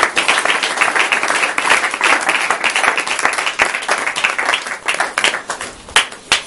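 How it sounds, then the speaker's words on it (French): An audience claps loudly and continuously for a speaker at a religious gathering, a dense wash of applause that thins toward the end into scattered claps. "Est-ce qu'on peut acclamer pour le frère Yap?"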